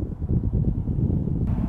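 Cold wind blows steadily outdoors at about 50 degrees, a dense low rumble of wind buffeting the microphone that stays loud throughout with a slight rise in hiss near the end.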